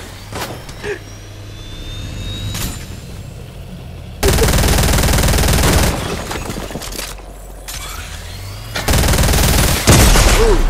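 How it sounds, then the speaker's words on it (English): Loud, rapid charge SMG bursts rip through a Fortnite fight in several long stretches, with engine-like rumble and brief excited voices between volleys. "Is that a charge SMG?"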